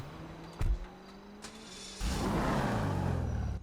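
A custom car's engine in GTA 5 Online cranks and catches with a short burst, then settles into a loud, steady idle rumble with a low drone, close and alone with no talk.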